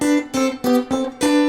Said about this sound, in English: But if I play that, that's a harmonized 6th.